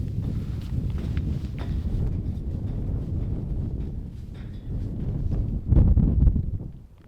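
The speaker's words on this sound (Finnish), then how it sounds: "Kova tuuli ja sumu." Strong wind with fog on a hilltop summit in Finland in autumn buffets the microphone in a steady low roar, gusting louder near the end, with no talk.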